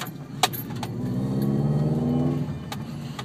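A 2004 Subaru WRX STi engine hums steadily up close on a test drive, rising slightly in pitch as it accelerates, with a couple of faint clicks and rattles from its lowered aftermarket suspension.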